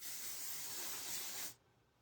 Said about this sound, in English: this dry texture spray